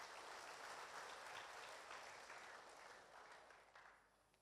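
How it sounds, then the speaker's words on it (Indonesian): Church congregation applauding during a Sunday anniversary service, a dense, even wash of many hands clapping that holds steady and then slowly thins out, heard at a moderate distance with no talking. "Mari kita berikan tepuk tangan Bapak Ibu."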